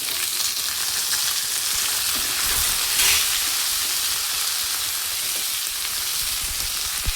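Tomatoes fry in a pan for sprouted horse gram sambar with mint and coriander added, giving a close, continuous sizzle with occasional soft stirring scrapes and no talk.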